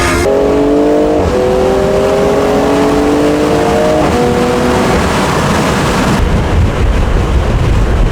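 A BMW M340i with a catted downpipe and straight exhaust cruising in 8th gear gives a steady, loud low drone under heavy road and wind roar, holding a constant hum with slight pitch shifts.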